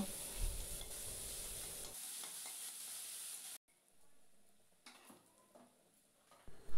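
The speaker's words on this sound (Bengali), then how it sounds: "এরপর আমি কুচো করা পেঁয়াজগুলো দিয়ে দিয়েছি, পেঁয়াজগুলো ভালোভাবে লাল লাল করে একটু ভেজে নেব।" Chopped onions sizzle in a pan with bay leaves while a utensil stirs and scrapes them. The frying is steady at first, then drops abruptly quieter, leaving sparse clicks and stirring taps.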